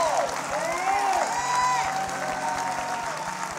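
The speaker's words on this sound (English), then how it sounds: "New Birth, clap your hands for these vessels, for these instruments" Congregation at New Birth church clapping during a studio dedication service, steady hand applause filling the room with voices and sustained tones mixed in underneath.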